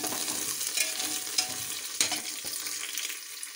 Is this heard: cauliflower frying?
yes